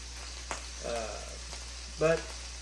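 Marinated ahi tuna sears in a hot pan with a steady low sizzle, a couple of brief louder spits rising over the frying hiss.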